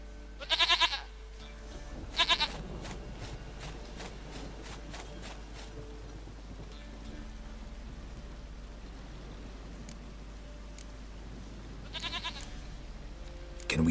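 A goat bleats in The Witcher 3, with two loud bleats early and another near the end over steady rain-like ambience.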